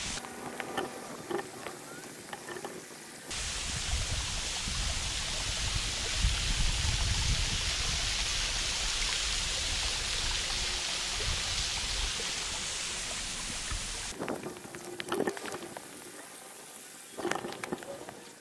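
Between stretches of quieter outdoor sound, a slow trickle from a waterfall in Ontario rushes steadily in a broad, even wash for about eleven seconds.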